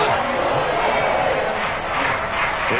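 Stadium crowd in an American football video game, Bears against the Rams, keeps up a steady, dense roar of applause and cheering after a defensive stop, filling the whole stretch with no pause.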